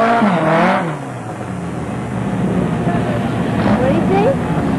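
Air-cooled VW Beetle engine revving hard as the car pops wheelies, a loud continuous drone rising and falling in pitch, with a voice talking over the start.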